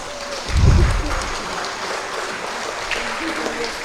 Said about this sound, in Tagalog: Kung kamo mo saad, mo barog kamo ug mo palakpak.